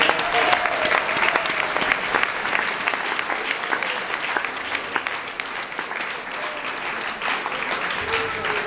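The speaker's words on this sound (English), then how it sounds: "Please give the community a big clap." Sustained audience applause at the opening of a community house, broad and even clapping from a sizeable crowd lasting the whole stretch, with faint voices and tones mixed in.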